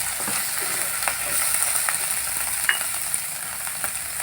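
Ginger-garlic paste and cumin seeds fry in a pan over browned onions for potol posto, giving a steady, close hiss with light scraping and a few sharp crackles. No one speaks.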